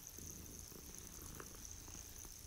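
A cat purring in the video game Hogwarts Legacy, a faint, steady low rumble with soft rhythmic pulses under a constant background hum.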